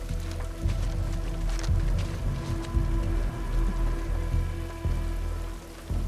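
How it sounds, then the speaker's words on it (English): Rain taps on a rusted car roof in The Last of Us Part II, a dense steady patter with low rumbling ambience and faint distant clatter, no voices over it. "rain tapping on a rusted car roof"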